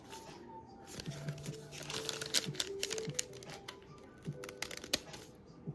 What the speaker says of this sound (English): right at the middle of this little loop, I'm just going to cut at a diagonal.